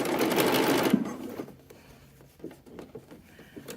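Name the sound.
sewing machine stitching baby clothing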